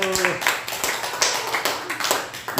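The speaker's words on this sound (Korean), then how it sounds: "매매 박수" Rhythmic group clapping during a laughter-therapy game, quick bursts of hand claps in a steady pattern, close and fairly loud, with a voice speaking briefly over the start.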